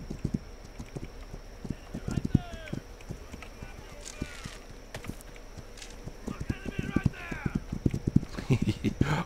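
Rhythmic clip-clop of horse hooves from a mounted rider in a settler-defense video game, steady and close, with occasional whinnies and someone talking over it.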